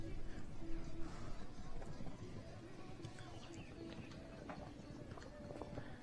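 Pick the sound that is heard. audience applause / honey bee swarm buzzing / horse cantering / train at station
horse cantering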